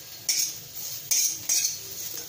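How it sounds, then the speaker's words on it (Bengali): Eggplant tipped into a pan of dry-fried fenugreek greens, three sharp clattering scrapes of a utensil against the metal pan with soft stirring between, close and fairly quiet. "এই যে বেগুন, বেগুনটা এর মধ্যে দিয়ে দেব।"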